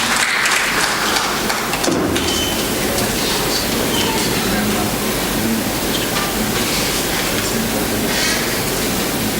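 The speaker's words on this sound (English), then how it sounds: "Can we have a big round of applause for the gentleman?" A conference audience at the Future of Workplace Conclave 2024 claps in a dense, steady roar that stays loud and even for the whole stretch, with no talking over it.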